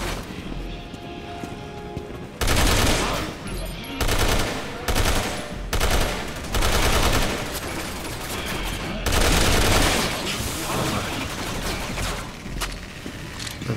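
Enemy gunfire in the Resident Evil 6 video game, Ada campaign, with repeated loud bursts of automatic fire coming in clusters over several seconds and quieter gaps between.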